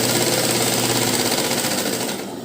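A sewing machine stitches a lined blouse, its fast, steady mechanical whirr running close and loud before easing off at the end.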